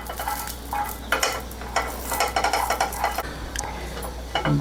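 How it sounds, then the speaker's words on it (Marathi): Garlic dry-roasting in a pan gives a faint crackle with intermittent scraping and clinking of a spatula against the pan, irregular bursts close by over a low steady hum; no voices. "लसूण घालते लसूण पण थोडासा परतून घ्यायचा"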